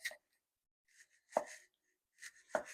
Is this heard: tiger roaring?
no